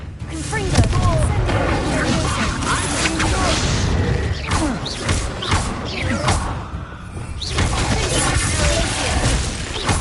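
Confringo fire-spell blasts in Hogwarts Legacy land in a dense, continuous stretch of booming explosions and crashing impacts, loud and close, with a brief lull midway.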